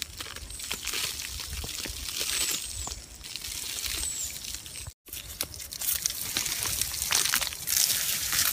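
Freshly harvested ginger being washed in water, with close sloshing, pouring and splashing, occasional crunchy knocks of the roots, and a brief break midway.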